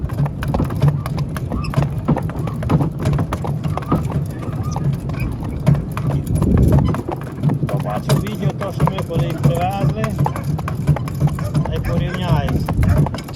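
Hooves clop steadily on a hard surface as a mare walks, close by, with people talking over the rhythmic footfalls.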